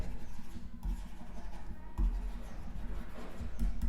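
A marker or chalk writes on a board during a maths lesson, making faint, soft scratching and rubbing strokes in short bursts with small gaps in a quiet room.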